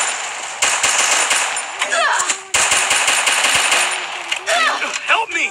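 Bursts of M4 rifle fire in the Free Fire video game, rapid automatic volleys with short gaps, loud and close, mixed with game effects and faint talk.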